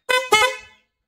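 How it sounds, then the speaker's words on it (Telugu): Two quick, bright honks from an aftermarket horn fitted on a Hero Splendor Plus motorcycle, loud and close, the second slightly longer, then silence. "మొత్తంగా ఫిట్ చేస్తాం కదా హార్న్స్ స్ప్లెండర్ ప్లస్ బండికి."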